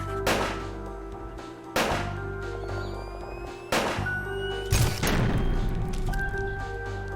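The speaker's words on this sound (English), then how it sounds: "Hey, let's do some gunshots." Several heavy, booming video game gunshots ring out at irregular intervals, each followed by a lingering tail over a constant electronic hum.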